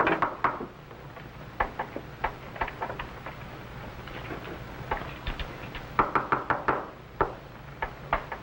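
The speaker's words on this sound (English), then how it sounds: "All right, Henry. Open the door." Knocking on a wooden door in an old-time radio drama, sharp raps coming in irregular groups across the whole stretch, near and fairly loud over a low hum, with no voices.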